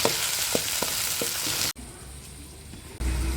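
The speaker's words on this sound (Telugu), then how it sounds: "టమోటాలు అయితే వేసుకున్నాము బాగా ఫ్రై చేసుకోవాలి" Tomatoes and garlic fry in a pan for star fruit chutney, giving a close sizzling hiss with light stirring taps, then a sudden softer stretch before the loud frying returns.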